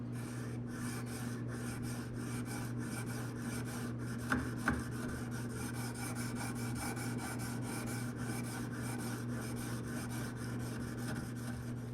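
Knife edge drawn across an 1100 grit diamond stone in steady repeated rasping strokes, close and even, over a constant low hum, with a couple of brief taps midway.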